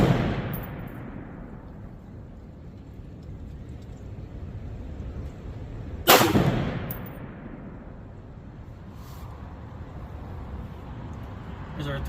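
An M1A or AR-10 .308 battle rifle fires a few outdoor shots, with one sharp, loud report standing out in the middle and the others softer and less distinct.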